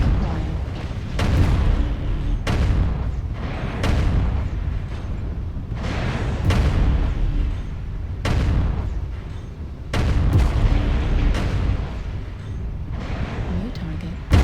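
Rapid AC-5 autocannon fire from a BattleMech in the MechWarrior video game, a series of loud, booming shots in repeated bursts roughly every one to two seconds, with game voice alerts underneath.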